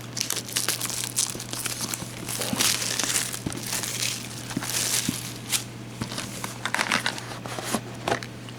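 Plastic packaging on an anime DVD and Blu-ray box being pulled open: steady close crinkling and crackling with sharp snaps and tearing bursts throughout, under a constant low hum, with no talking.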